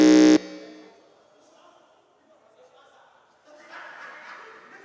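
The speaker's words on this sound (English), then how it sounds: "There is no question, but you have pressed the buzzer." A contestant's quiz buzzer at a junior science and maths quiz championship gives one loud, short electronic blast at the start, followed by quiet room noise and faint talk.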